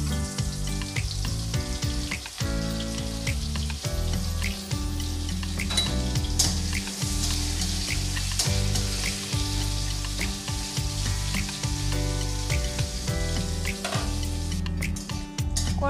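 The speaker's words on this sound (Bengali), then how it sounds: "তেল গরম হয়ে গেছে, এবার আমি করলাগুলো ভেজে নেব।" Bitter gourd (karela) pieces, coated with salt and turmeric, frying in hot oil in a pan: a continuous loud sizzle with scraping and clinking of a utensil stirring against the pan throughout.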